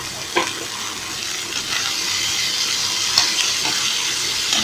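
Vegetables sizzling in a hot pan for rava upma, a steady frying hiss with occasional stirring scrapes, close and alone with no talk.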